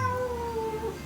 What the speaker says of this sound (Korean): 고양이야 조용히 해라.